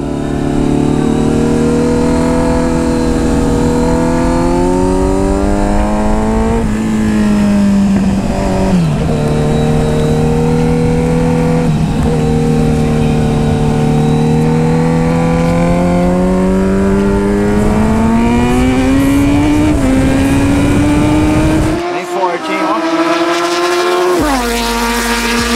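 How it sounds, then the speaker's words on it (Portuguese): A Kawasaki Z900 motorcycle with an aftermarket exhaust accelerates hard through the gears, its loud, close engine note climbing in long rising sweeps, dropping at each shift, then cutting briefly near the end before resuming. "E dá-lhe marcha, o barulho dela tá muito gostoso"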